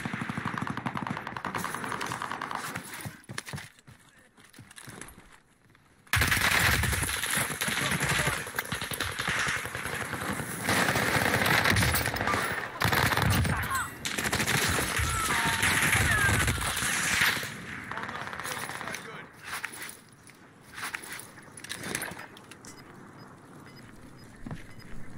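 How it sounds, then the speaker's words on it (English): Gunfire in the video game Warzone 2, with rapid automatic bursts and scattered shots of varying loudness across a long stretch, some near and some distant, under an occasional voice. "Thought I heard bullets over here when we were shooting at these enemies"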